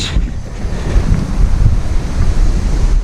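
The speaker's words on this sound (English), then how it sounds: "It's windy as hell today" Strong wind gusting steadily across the microphone at a lake while fishing, a continuous low roar and buffeting with a faint wash of lapping water behind it.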